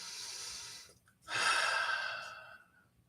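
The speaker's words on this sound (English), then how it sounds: "Take a deep breath." A single deep breath, drawn slowly and close to the mic, then a long, audible sighing exhale that fades out. No voices accompany it.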